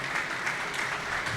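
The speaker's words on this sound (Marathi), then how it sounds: "त्या लोकांसाठी एकदा जोरदार टाळ्या वाजवून त्यांचं आपण एकदा स्वागत करूया" Audience applause welcoming the mentors at a youth drama and dance event, a steady dense wash of clapping that fills the whole moment without pause.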